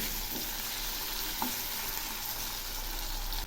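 A paste of cumin, radhuni and ginger frying in oil while being stirred, giving a continuous close sizzle with a faint scrape or two and no speech.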